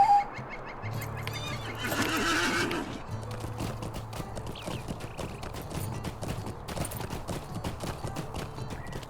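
A horse in the video game LOTRO gives a loud whinny, then its hooves clip-clop in a steady, even rhythm at close range, with faint bird calls in the background.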